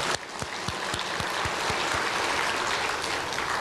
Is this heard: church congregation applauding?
yes